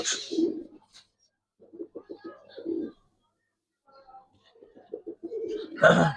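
Silver Giribaz pigeons coo in soft, repeated bursts from close by, separated by short pauses, with brief chirps and a louder flurry near the end.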